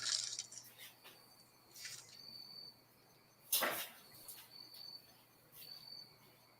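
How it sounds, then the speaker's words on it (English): Crickets chirping outdoors at dusk, faint and distant, with thin repeated trills scattered through a quiet background and a few soft knocks and clinks nearby. "I heard crickets"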